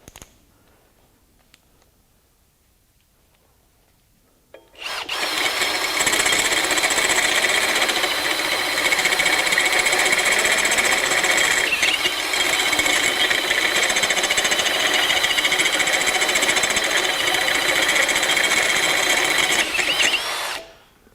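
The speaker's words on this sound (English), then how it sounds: "My Milwaukee drill is wanting to cut out." A Milwaukee drill drives a step reamer through 1/2-inch steel plate, starting after a few seconds of quiet and then grinding and whining loudly and steadily for about fifteen seconds before stopping abruptly.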